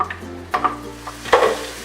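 Carrots and onion drop into hot olive oil with a few stirring scrapes and bursts of sizzling, the frying hiss rising and fading across a short stretch.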